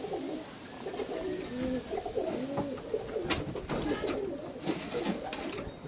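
Roller pigeons coo in a loft, with soft repeated throaty warbling phrases overlapping close by, joined by a few faint higher chirps and a low background rumble, with no talking.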